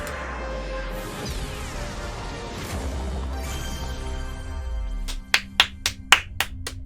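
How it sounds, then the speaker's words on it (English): Scattered claps from a small group at a live E3 2021 game-showcase reaction stream, about seven sharp separate hand claps near the end following a stretch of loud game audio. "Can we get a round of applause for that one?"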